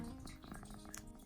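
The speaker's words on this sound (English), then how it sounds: "You can probably hear her purring." A pet cat named Cora purrs softly up close indoors, a low, continuous rumble that is faint and steady throughout the short stretch.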